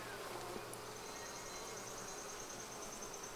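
Honey bees buzz faintly around their hive during a nectar dearth, a soft continuous drone with a thin whine passing over it.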